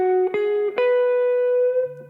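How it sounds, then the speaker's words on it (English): A single sustained guitar note pushed up by a tiny microtonal bend, ringing clearly with rich overtones, a couple of brief pick attacks early on, then settling and fading into a lower tone at the end. "I'm talking about a microtonal bend."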